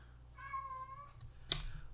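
A pet cat lets out one clear, drawn-out meow indoors, fairly quiet and close, followed by a brief sharp knock; no talking.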